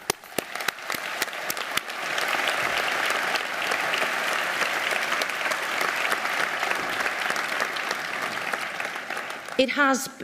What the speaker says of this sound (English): I think that deserves a good clap